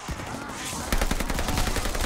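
Rapid automatic gunfire in Call of Duty: Vanguard Zombies starts about a second in as a fast, loud burst of repeated shots, after a brief stretch of game noise.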